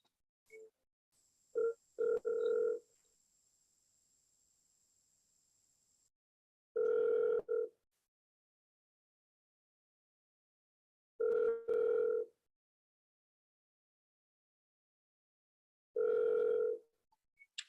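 An outgoing telephone call rings back four times in spaced bursts, with a faint tone at the start and silence between rings, and no talk.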